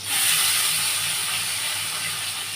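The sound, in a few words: brinjal (eggplant) frying in oil, sizzling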